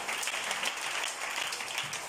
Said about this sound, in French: acclamons le nom du Seigneur.